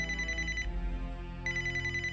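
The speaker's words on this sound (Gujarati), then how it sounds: "ફોન આવ્યો." A telephone rings in a home at night, two bursts of rapid trilling bell separated by a short pause, clear and steady against a low background hum, with no talking.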